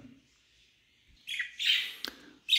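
Budgerigar chicks and parakeets give short, loud squawking calls in bursts after a quiet start, close by, with brief chirps between the louder cries.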